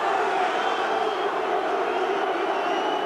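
Football crowd at a Reading FC versus Wolves match in 1994/95, a steady wash of cheering and chanting from many voices, fairly loud and continuous with no pauses.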